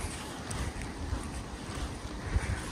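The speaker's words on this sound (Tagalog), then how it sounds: "Medyo chill ang weather tapos medyo mahangin." Wind gusts buffet the microphone outdoors in a forest at sunset, a steady low rumble with occasional stronger thumps, and no one talking.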